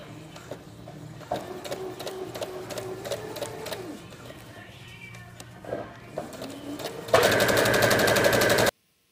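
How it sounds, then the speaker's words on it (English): A sewing machine stitches a fabric cover tightly onto cording for a padded headboard, running in short stop-start bursts of rapid clatter, then a loud continuous whirring run at the end. "start sewing this cover on the cording"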